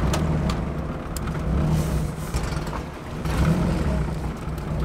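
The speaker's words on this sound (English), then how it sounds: "the car is still doing that really weird idle that it was doing two videos ago on the way back from Rudd's Racing, where it's like surging and dropping" A turbocharged Honda B-series car engine idles unevenly, its rumble surging and dropping in slow waves, close and steady with no talk.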